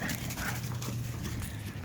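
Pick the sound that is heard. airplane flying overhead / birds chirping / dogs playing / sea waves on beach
dogs playing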